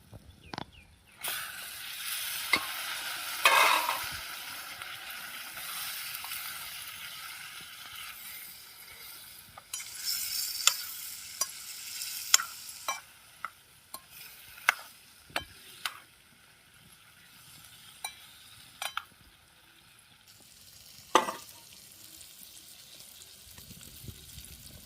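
Fresh river fish fry in a pan, giving a soft bubbling sizzle with scattered crackles and pops that rise and fall, fairly quiet, with occasional louder spits and a fading tail.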